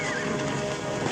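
Horses neigh and their hooves clop in a dense, loud burst over an outdoor action scene in a cowboy film, with a shrill whinny riding on top of continuous trampling.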